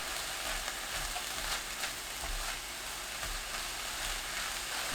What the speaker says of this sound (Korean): 청양고추 넣고 중불로 1분 30초 볶아주세요.